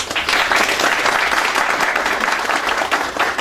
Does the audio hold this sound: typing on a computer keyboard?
no